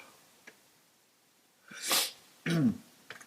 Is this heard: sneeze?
yes